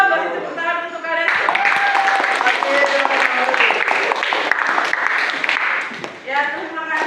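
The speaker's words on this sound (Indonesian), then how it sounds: "beri tepuk tangan untuk kalian" A classroom group of children breaks into loud, dense clapping that continues for several seconds, with voices speaking before and after it.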